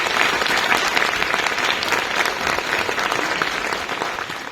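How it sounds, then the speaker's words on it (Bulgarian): Applause from a concert audience at a young folk talents gala with a radio folk orchestra, dense and continuous clapping throughout at a fairly loud level, with no pauses. "Моля за аплодисменти и за Кристиян Неделчев, продуцент народна музика на радиото."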